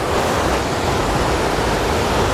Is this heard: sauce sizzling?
no